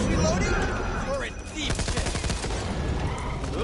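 Rapid gunfire in the zombie shooter video game Back 4 Blood, bursts of automatic shots crackling in the midst of in-game chaos, with players' voices mixed in.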